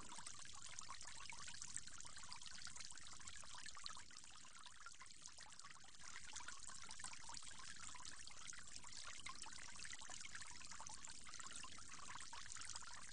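Water pours and trickles steadily and softly without a break while someone rinses their mouth during ablution. No voices are heard.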